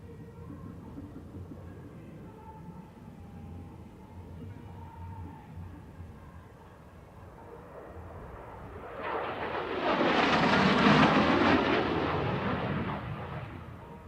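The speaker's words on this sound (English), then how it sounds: "watch as our lead solo, Major Oliver, maintains level flight while performing the challenging slow" Thunderbirds solo jet in level flight through a slow roll at the SUN 'n FUN Aerospace Expo air show, a broad jet roar swelling up from a distant rumble around the midpoint and peaking loud before easing slightly.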